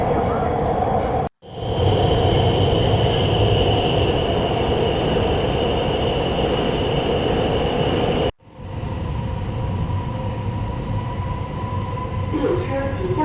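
A Beijing Subway Line 8 train running along an above-ground stretch, a loud continuous rumble with a steady high whine, broken twice by brief drops in sound, heard from inside the car.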